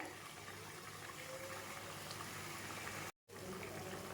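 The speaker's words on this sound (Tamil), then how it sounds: "குழம்பு நல்லா கொதிச்சிட்ருக்குங்க" A pot of egg kurma bubbles and simmers steadily at low volume, a continuous soft boiling hiss with a brief dropout near the end.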